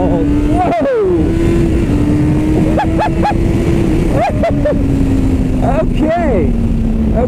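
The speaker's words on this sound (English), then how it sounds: "this is a 4-cylinder engine, but it actually makes a lot more torque than their previous engine" A 2017 Honda CBR1000RR four-cylinder sport motorcycle engine accelerates hard while riding, rising through repeated revving surges with brief dips between, loud and close over constant wind noise.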